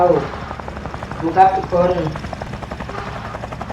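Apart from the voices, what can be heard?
airplane engine in a video game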